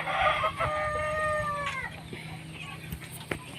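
Free-range Black Australorp chickens cluck in the afternoon, with a few drawn-out calls near the start that may be a rooster crowing, then scattered soft clucks over faint background noise.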